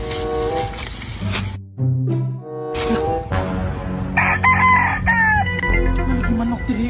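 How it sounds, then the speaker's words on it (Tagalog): A rooster crows loudly nearby amid clucking chickens, with a brief quieter gap in the middle before the birds resume. "Lagi manok diri ah."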